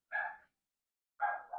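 A 7-week-old giant schnauzer puppy gives two short, high yips separated by a second of silence, close and clear with nothing else around them.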